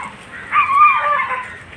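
A street dog gives a short, whining whimper that swells and fades over about a second, moderately close, with no speech over it.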